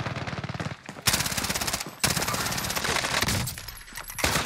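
Rapid bursts of M4A1 automatic rifle fire in Call of Duty Warzone, loud and close, in several sustained volleys separated by brief pauses.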